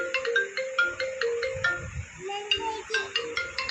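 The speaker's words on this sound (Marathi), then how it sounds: "पप्पाला म्हणून फोन आला" A mobile phone ringtone plays a repeating melodic pattern of bright, evenly spaced tones, close and clear, with a faint voice underneath.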